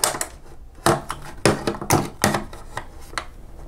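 Razor knife cutting and trimming a mounting piece for a tablet head unit install, a series of sharp, close scraping and snapping strokes in an irregular rhythm with no talk.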